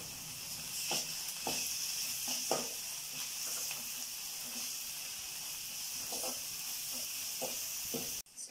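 Ginger garlic paste frying with softened onions in a pan, a faint steady sizzle and hiss with a few soft stirring scrapes and clinks scattered through.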